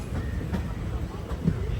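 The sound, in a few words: train arriving at Shornur railway station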